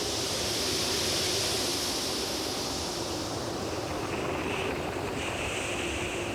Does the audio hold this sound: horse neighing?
no